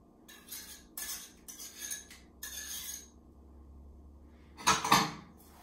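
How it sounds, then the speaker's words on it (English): A whisk clinks and taps against a bowl in short bursts while eggs, sour cream and bananas get mixed, followed by a quieter stretch and then a louder clatter near the end, close by, with no one talking. "And then just twisting the whisk to make sure that the bananas are really pureed."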